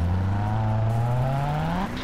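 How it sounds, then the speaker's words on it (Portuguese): A car's tires skid in GTA San Andreas with a sound-mod effect, a loud sustained tonal screech that rises slightly in pitch for nearly two seconds before cutting off abruptly. "O som do derrape dos pneus também tá bem legal."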